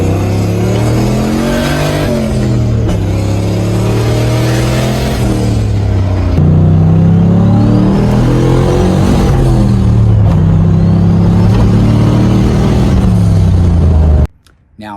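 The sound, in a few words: turbocharged car accelerating, comparing gear ratios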